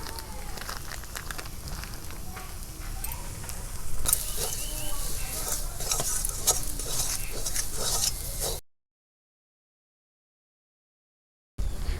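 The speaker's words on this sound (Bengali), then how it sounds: "আলুটা আমার ভাজা হয়ে গেছে," Potatoes fry with turmeric, salt and gram flour in a pan, giving a continuous close sizzle with crackles and stirring scrapes that grow louder partway through, then a few seconds of silence before the sizzle briefly returns.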